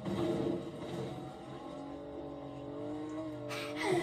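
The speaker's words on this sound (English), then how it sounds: "I'm just gonna steal that car." Car engine in a video game as a vehicle is stolen and driven off, a steady mid-level engine drone with shifting revving pitch and a brief tire-squeal-like swoop near the end.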